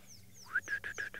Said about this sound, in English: You can hear lots of little birdies, though,